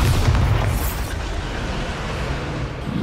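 A Bombarda spell explosion goes off as a heavy, close boom with a deep rumbling low end that decays into a long fading roar.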